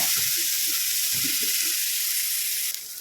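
Shallots, green chillies and curry leaves fry in hot oil in a pan with a loud, steady sizzle and hiss. Faint stirring knocks sound underneath, and the sizzle drops slightly near the end.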